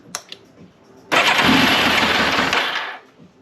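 A Yamaha FZR 1000 motorcycle with freshly installed and tuned carburetors cranks with a couple of short clicks, then fires and roars for about two seconds, loud and close, before dying away.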